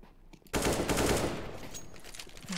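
Sudden burst of rapid automatic gunfire in CS:GO erupts after a quiet moment, loud and close, a dense rattling stream of shots that tapers off over a couple of seconds.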